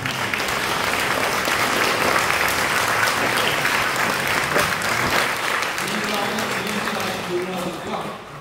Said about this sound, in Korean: 우리 격려의 박수 고맙습니다.